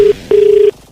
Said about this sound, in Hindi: राहुल ने फोन करके बउआ से कहा